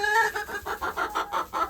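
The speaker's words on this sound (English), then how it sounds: "the chickens are thriving despite the blizzardy" Hens clucking outdoors in blizzard conditions, a close, fairly loud run of about eight rhythmic clucks in quick succession with no talking.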